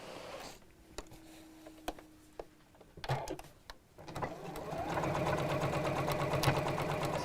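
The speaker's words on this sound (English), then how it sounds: "I'm going to sew all the way around the edge, but not over that area" A sewing machine stitching around the edge of a fabric book cover, starting with a few clicks and short bursts before settling into a steady, close mechanical whir.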